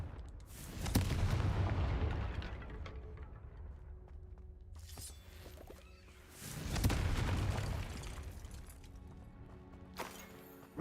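Blasting spell impacts in Hogwarts Legacy, two loud broadband bursts a few seconds apart, each with a sharp crack followed by a rumbling, decaying tail, with a third quick burst near the end.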